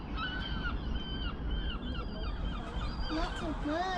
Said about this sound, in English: Lots of birds and seagulls.